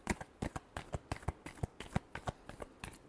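Tarot cards are shuffled by hand in quick, rhythmic riffles, a dense run of sharp papery flicks and slaps, close but fairly soft, with no voice.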